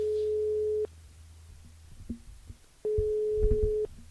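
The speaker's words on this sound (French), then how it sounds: "On appelle Doris du côté de la plaine des CAF dans le dilemme de l'animateur." A telephone ringback tone on an outgoing call to a radio listener: two long steady beeps about two seconds apart, clean and fairly loud, with faint background between them.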